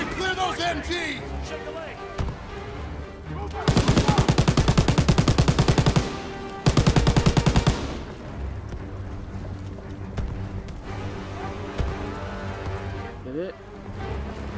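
A mounted turret in Call of Duty WW2 fires two long, loud, rapid bursts of machine-gun fire, with battlefield noise, distant shots and voices shouting around them.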